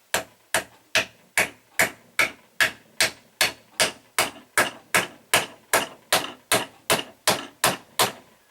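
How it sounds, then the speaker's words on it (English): A copper hammer taps a cover onto a Makita reciprocating saw with about seventeen sharp, evenly spaced metallic knocks, each ringing briefly before the next, close and loud with no talk. "Just going to give that a little tap home with my copper hammer."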